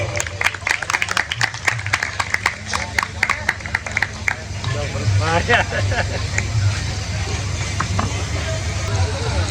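An audience at a live Gujarati Lok Dayro folk gathering claps in a dense, loud burst for about four seconds, then the clapping gives way to a rumbling crowd murmur and voices.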